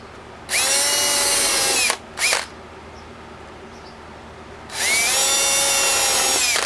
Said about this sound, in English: I need to drill some pilot holes on the other side of that